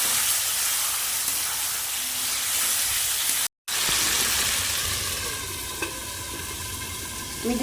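Mutton curry sizzles steadily in a pot while being stirred, the frying hiss cutting out for a split second before the steady scraping and bubbling resume.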